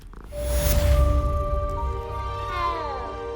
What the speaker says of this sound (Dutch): Oké, een kat.